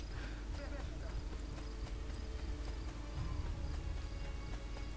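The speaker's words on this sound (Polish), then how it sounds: "Koń biegnie." Galloping horse hooves in Assassin's Creed 2, a steady rapid clip-clop close by, layered over a constant bed of cricket and insect chirping in the game's outdoor ambience.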